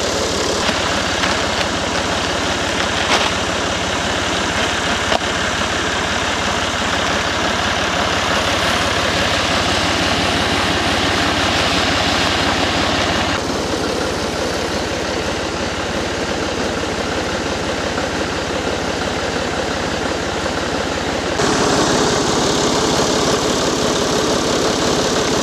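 A tractor engine runs steadily while cultipacking a fall food plot, a loud, continuous low drone with shifts in load and tone, heard alone without talk.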